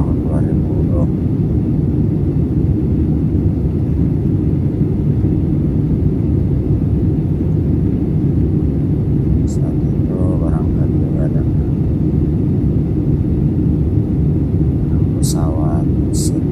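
Steady, loud low engine rumble fills an airliner cabin throughout a flight from Makassar to Palu, with faint muffled voices drifting in now and then.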